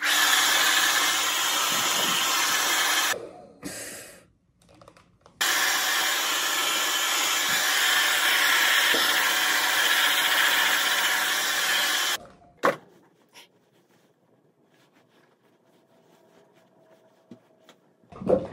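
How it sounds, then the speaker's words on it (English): A hair dryer blows loudly and steadily during a hair-styling session, cutting out briefly and then running again for several seconds before switching off, leaving quiet room sound and a few small handling noises. "Okay, let's blow our hair, guys."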